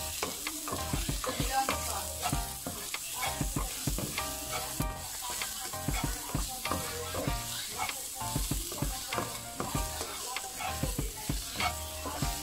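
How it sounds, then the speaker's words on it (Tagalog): Chopped onion and garlic sauté in a hot pan, giving a continuous soft sizzle broken by the frequent scraping taps of a stirring utensil, fairly quiet and close. "nagigisa na ako ng sibuyas"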